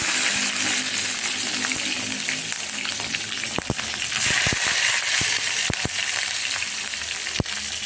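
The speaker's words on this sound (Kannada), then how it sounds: "ಇವಾಗ ಮತ್ತೆ ಸಾಸಿವೆ ಕಡಲೆಬೇಳೆ ಉದ್ದಿನಬೇಳೆ ಜೀರಿಗೆ ಮೆಂತ್ಯ ಸಾಸಿವೆ ಅದೇ ಬಾಣಲಿಗೆ ಎಣ್ಣೆ ಹಾಕ್ಕೊಂಡು ಹಾಕ್ತಾಯಿದ್ದೀನಿ" Mustard seeds, chana dal, urad dal, cumin, fenugreek and pepper sizzle and crackle steadily in hot oil in a pan, with sharp pops and spatters breaking through the continuous frying hiss.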